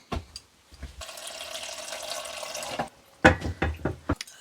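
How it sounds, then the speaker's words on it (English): Water runs from a tap into a pan of chopped ivy leaves for a couple of seconds, framed by clanks and knocks of cookware before and after. "I'm just going to cover them with water."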